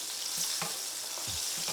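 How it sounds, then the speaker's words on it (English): Onion frying in hot oil sizzles steadily close by, with a few soft stirring bumps and no voices. "frying this onion in the oil before I fry the chicken"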